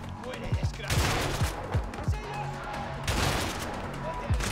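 Shotgun blasts ring out in the A Way Out video game, a series of sharp, punchy shots spaced irregularly over a few seconds amid ongoing game noise and background talk.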